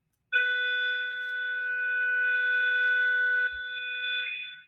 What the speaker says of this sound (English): Usually when that alarm goes off, people shut off their stuff and run away like a fire drill.